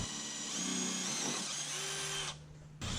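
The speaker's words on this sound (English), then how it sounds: "Josh has taken the drill and drilling a few holes at both ends of the crack" A power drill bores holes at both ends of a crack in a Jeep XJ frame, its steady high whine running loud and close for over two seconds before dropping off, then a brief restart.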